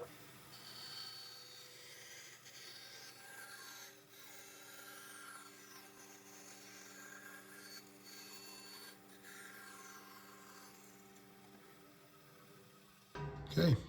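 A tool cuts a circle out of a jasper, epoxy and maple block in a steady, faint whirring grind with a tonal hum that shifts slightly, ending in a brief louder clatter.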